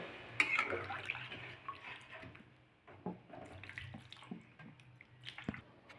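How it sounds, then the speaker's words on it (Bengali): Water poured into a pan of potato and cauliflower curry cooked with goat fat, making an uneven, close splashing trickle over several seconds, with no talking. "পরিমাণ মতো জল দিয়ে দিচ্ছি খুব বেশি দেব না"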